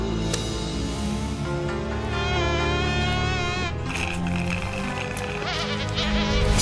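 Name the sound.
mosquito buzzing in a Ninjago cartoon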